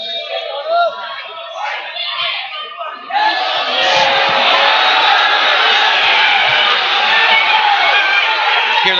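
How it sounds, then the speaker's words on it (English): A wrestling-match crowd cheers and roars loudly, swelling partway through into a sustained wall of shouting and whooping that fills the arena. "Hear the crowd going in the background."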